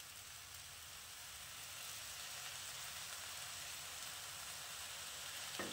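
Broccoli cooks in a pan with a splash of soy sauce, giving a faint, even sizzling hiss that holds steady throughout without any talk.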